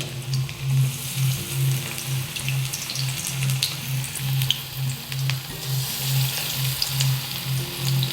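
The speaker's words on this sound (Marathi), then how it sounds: "तेल गरम झालेलं आहे हळूहळू आपण एक एक याच्यामध्ये सोडून मध्यम आचेवर आपल्याला हे तळून घ्यायचे आहेत" Urad dal masala vadas deep-frying in hot oil make a steady, close bubbling sizzle, with a soft pulsing undertone and faint crackles throughout.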